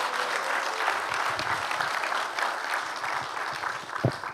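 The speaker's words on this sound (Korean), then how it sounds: "힘내시라고 큰 박수 주시죠" Warm, sustained clapping fills a church during a dedication and founding service as a vice minister of unification is welcomed to speak, a steady crowd sound with scattered sharper claps throughout.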